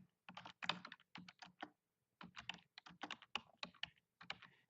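Typing on a computer keyboard while entering game recaps into league-planning software: bursts of close, quick keystrokes broken by short pauses, with no talking.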